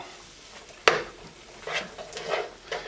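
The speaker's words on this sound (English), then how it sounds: "Now I'm going to throw our fettuccine in there. We're going to mix that all up." Cooked fettuccine tossed with shrimp in a pan, a sharp utensil clink followed by soft scraping and sizzling stirs, close and fairly quiet.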